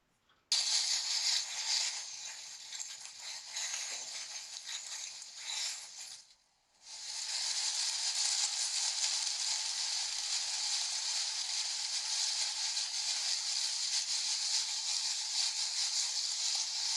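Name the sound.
rustling of autumn leaves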